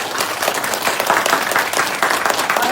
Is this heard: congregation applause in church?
yes